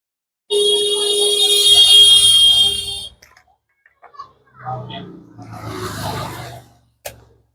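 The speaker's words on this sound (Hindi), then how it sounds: "देखिए बीप जैसा साउंड आ रहा है" A multimeter gives one loud, sustained continuity beep lasting a few seconds while testing a Honda Shine motorcycle's magnet lighting coil wires, followed by someone talking.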